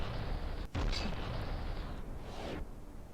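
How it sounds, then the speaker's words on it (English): Video game cannons fire on a ship, the Crimson Frolic, with a sharp blast followed by a rumbling, noisy wash of impact that fades out over a couple of seconds. "the fake Santa took a pretty good hit there from the cannons on the Crimson Frolic"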